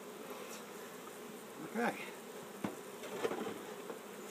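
A honeybee swarm buzzes steadily and moderately close, a continuous droning hum with a few brief louder bumps, and a short spoken word partway through.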